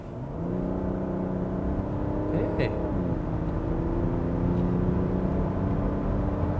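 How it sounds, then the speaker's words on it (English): Genesis GV80 SUV switched into sport mode and driving off, its engine note rising and revving steadily in the cabin; a voice briefly calls out over the continuous engine hum. "Let's put the car into sports and drive."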